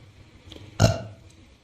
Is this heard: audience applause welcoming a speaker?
no